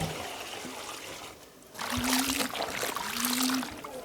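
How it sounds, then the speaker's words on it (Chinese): Salted white radish strips being washed by hand in a basin of water, with close splashing and trickling that starts softly, then swells into steady sloshing and dribbling for several seconds. "萝卜腌出水分来，来一盆子水再洗一下。"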